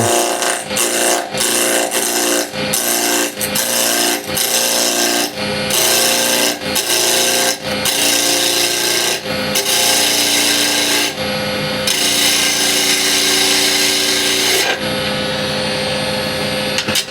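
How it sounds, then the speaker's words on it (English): A small spindle gouge cuts a walnut burl spinning on a wood lathe cross grain, a loud, rough scraping roar in repeated bursts separated by brief pauses, then a longer steady cut. "Small spindle gouge."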